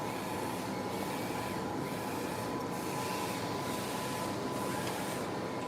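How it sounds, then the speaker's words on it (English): A DTF direct-to-film printer running, giving a steady mechanical hum with a faint constant whine and soft periodic sweeps of the print head, continuous and even with no talking. "So I pause the printer."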